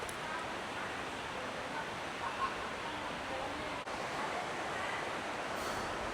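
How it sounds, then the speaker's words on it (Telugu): A waterfall in Vietnam, around 50 meters high, roars in the distance as a steady, even wash of broadband noise with no distinct splashes, heard alone at a low level throughout. "సౌండ్ అటు వస్తుంది, వాటర్ ఫాల్ సౌండ్"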